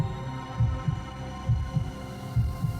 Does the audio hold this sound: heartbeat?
yes